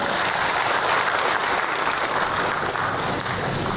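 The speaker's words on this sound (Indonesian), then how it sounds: "Tepuk tangan boleh?" Steady, dense applause from a large crowd at a political party inauguration ceremony, continuous clapping filling the whole stretch without pause.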